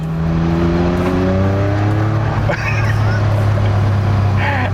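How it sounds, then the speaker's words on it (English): Car fitted with a twin-turbo Jaguar V6 racing engine revs loudly, a dense roar with climbing tones, a sharp shift near the middle and a voice faintly underneath. "they gave it a Jaguar V6 racing engine with twin turbos"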